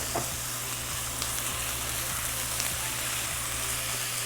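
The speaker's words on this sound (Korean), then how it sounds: "자, 양념되어 있는 고기를 넣으시고" Marinated pork hits a hot pan for Korean spicy stir-fried pork, giving a loud, steady sizzle with regular scraping stir strokes roughly every half second, close and without any voices.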